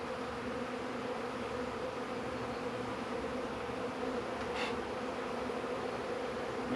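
A steady, dense drone of honey bees around a hive while new packages are being installed, a continuous close buzz with a few louder passes of individual bees near the end.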